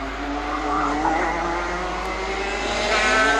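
Minimax karts race around a track, engines droning loud and steady with a rising, whining pitch as they pass close by, alone without talk.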